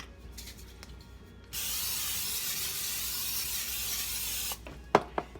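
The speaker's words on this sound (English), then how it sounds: "I'm gonna spray my pan." A steady aerosol hiss of cooking spray on a casserole baking pan lasting about three seconds, close up, followed by a couple of light clanks from the pan.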